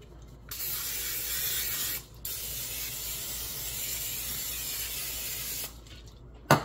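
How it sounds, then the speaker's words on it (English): Cooking oil sprays in hissing bursts onto meat at a Kamado Joe grill: a short puff, then a longer steady spray of several seconds, close and fairly loud, with brief quiet gaps between. "Then I spray it with oil so it won't stick."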